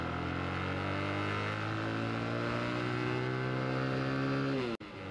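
A 2025 Bajaj Platina 110 FI motorcycle engine hums steadily while riding, its tone climbing slowly as the throttle opens, close and continuous before cutting off abruptly near the end.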